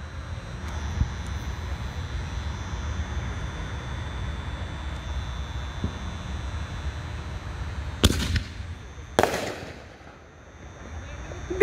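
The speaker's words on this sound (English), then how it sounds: "we got Ghost Killer, shell number 2 by Winda, the fake canister shell, but a real ball shell" A Winda Ghost Killer ball shell firework, styled as a fake canister shell, bursts with two sharp, loud cracks close together near the end, following a long stretch of low outdoor rumble.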